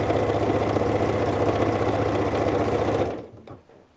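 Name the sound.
sewing machine stitching an infinity scarf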